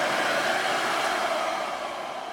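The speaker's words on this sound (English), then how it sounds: "This is especially bad when I am using my hairdryer." A hairdryer runs continuously at close range, a steady airy whoosh and motor whine holding level for a couple of seconds and easing slightly near the end, with no other sound.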